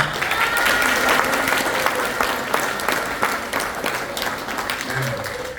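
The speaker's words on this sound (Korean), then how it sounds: "우리 포럼 회원들한테 큰 박수 좀 보내주시기 바랍니다" Members at a civic forum's founding ceremony in Jeju give a long round of applause, a steady, full-room clapping at strong level, with a faint voice or two beneath it.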